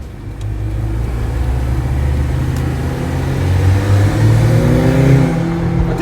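A 2003 Honda S2000 with stock exhaust runs with a steady, loud engine drone that climbs gradually in pitch as it revs, heard up close with no one talking.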